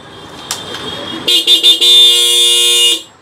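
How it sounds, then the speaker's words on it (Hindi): Dual-tone horn fitted on a Triumph Speed 400 motorcycle, sounding a few short loud toots followed by one long sustained blast, close up. "ये आपको dual tone horn, single horn की जगह डबल हॉर्न लगा दिए गए"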